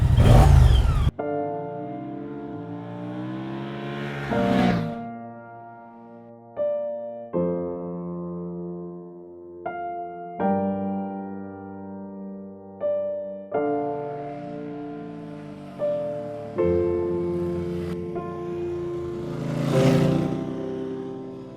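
Moto Guzzi V100 Mandello motorcycle engine idling and revving repeatedly, each throttle blip rising in pitch before settling back, loud and close with a throaty burble.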